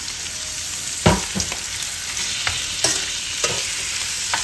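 Tomatoes stirred into onions and meat sizzling in a pan for Ilocano pinakbet, a steady frying hiss with several close scrapes and clacks of a utensil against the pan.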